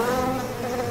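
A dense, steady buzz of Africanized killer bees hums continuously, close and moderately loud, like a swarm.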